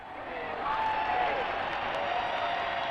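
Big crowd cheering and applauding at the Queen's coronation outside Buckingham Palace, heard from the balcony: a dense, steady roar that swells after the first half second and holds loud throughout, with no clear voices.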